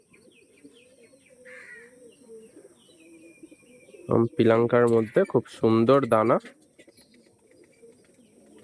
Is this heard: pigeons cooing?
yes